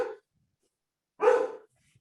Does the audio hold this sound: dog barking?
yes